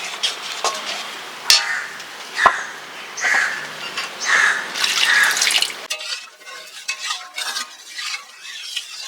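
Water poured into boiling masoor dal in a pot, a splashing, sloshing pour with stirring clinks for several seconds, then quieter bubbling and faint scraping, close by with no talking.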